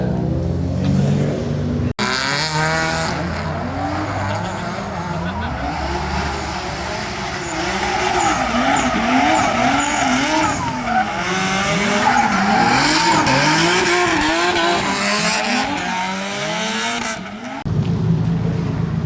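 A drift car at a practice run skids with long wavering tire squeals, rising and falling in repeated arcs over a loud engine roar, continuous for most of the stretch with a brief quieter gap near the end.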